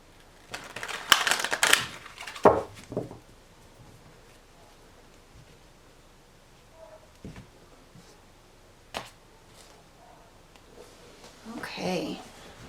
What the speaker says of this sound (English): we're going to do two more shuffles here for you